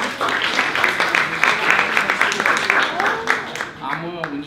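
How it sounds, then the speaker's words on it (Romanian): Audience applause at a pub talk event, a dense burst of clapping that fades out toward the end as voices come through. "Să aplaudăm pe Anita"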